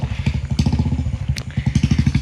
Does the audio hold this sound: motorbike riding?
yes